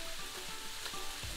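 Pasta with mixed herbs, salt and pepper stirred in a hot pan, a steady close sizzle with soft scraping of the spoon running through the short stretch, no voices.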